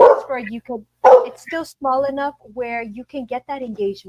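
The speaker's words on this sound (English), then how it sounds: "sorry, that's my dog." A pet dog barks twice in short, sharp bursts near the start while a person keeps talking in an indoor interview.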